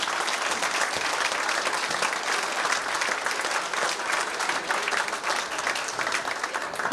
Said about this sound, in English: I'd like to giving a good round of applause to the McLellis and McFadden's Hotel